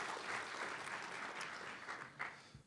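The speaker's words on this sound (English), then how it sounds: "just one more hand of applause" An audience at an emerging-leaders event gives a short burst of clapping, fairly quiet and distant, steady over a couple of seconds with a few sharper claps near the end.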